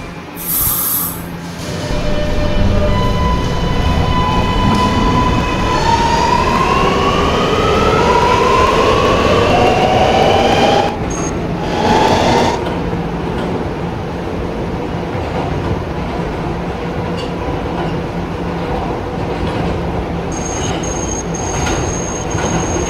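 An R211 R local subway train in the Roblox game rumbles loudly along the track, motor whine rising in pitch as it speeds up, with wheel squeal and a steady roar continuing throughout.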